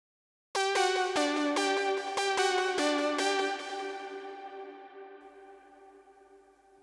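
An 80s-style synth patch plays a short bright plucked melody of about a dozen quick notes, then a long shimmering tail slowly fades into echo.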